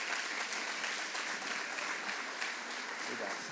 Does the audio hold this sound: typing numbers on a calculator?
no